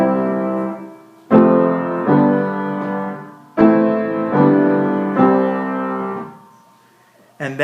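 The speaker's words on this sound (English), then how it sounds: "Finally, if I were to play this rhythm on a piano and use more notes to create music," Piano plays a short quarter-note rhythm using chords and several notes to form a little musical phrase, with sustained, ringing strikes in two groups, close and clear, heard alone.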